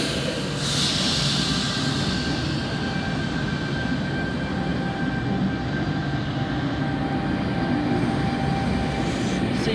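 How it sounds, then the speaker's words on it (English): Electric C set train pulling away from platform 4 at Lidcombe, bound for Parramatta: a steady, loud rumble of wheels and traction motors with a thin high whine running throughout, no talking. "C set departing platform number 4 for Parramatta service"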